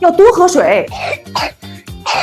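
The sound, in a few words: baby coughing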